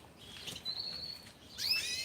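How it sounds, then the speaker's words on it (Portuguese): Small moulting birds in an aviary give thin, high chirps and a sustained whistled note, then a brighter burst of overlapping calls near the end, fairly close over faint background hiss. "Estão aqui passarinhos que já estão num estado muito avançado da muda"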